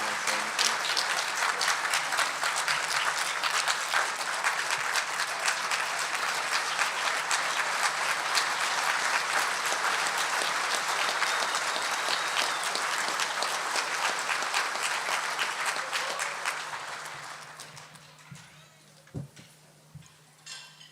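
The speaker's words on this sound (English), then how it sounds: "let's give another round of applause" A large audience applauds steadily at a livestock auctioneer championship awards ceremony, the dense clapping holding for about seventeen seconds before thinning out to a few scattered claps near the end.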